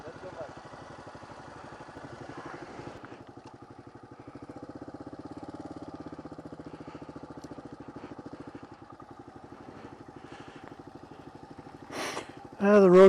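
A motorcycle engine runs steadily in first gear on a scenic backroad in Baños, Ecuador, a close, low rhythmic putter that swells slightly mid-way, ending in a louder burst of wind or revving.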